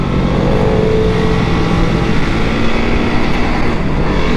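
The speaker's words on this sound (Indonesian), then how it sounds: "Coba kita gas dikit ya" A car accelerates under throttle, its engine note droning steadily and loudly from inside the cabin with a constant low rumble and road noise, no speech over it.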